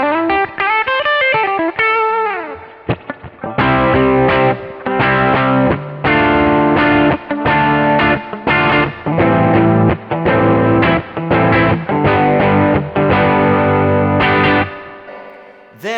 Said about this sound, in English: on the Kemper, I might set up to have some overdrive like this with a nice warm bridge